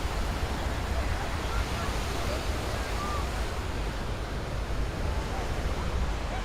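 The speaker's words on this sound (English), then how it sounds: "Glad you're liking the sound of the ocean." Ocean surf on Fort Lauderdale beach makes a steady broadband wash, with some wind noise on the microphone and no distinct individual wave breaks.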